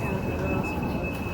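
Steady low rumble and hum of an Adelaide 4000 class electric train, with a constant high tone running through the whole stretch, heard close up from on board.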